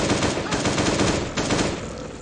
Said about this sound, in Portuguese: Começar a dar um tiro nesse bicho